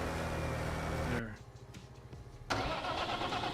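A tractor engine in Farming Simulator 22 cranks and fires after a brief quiet gap, then settles into a steady, close mid-pitched idle.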